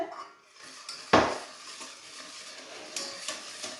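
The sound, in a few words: stirring sugar into a mixture in a bowl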